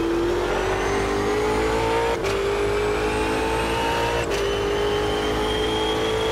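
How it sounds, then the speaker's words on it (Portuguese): Ultima GTR race car accelerating hard in the racing game Automobilista 2, an engine of roughly 800 horsepower with a steady rising drone and two brief gear-shift dips, loud and close with no talk. "Ele vai, ó, acelera lindamente."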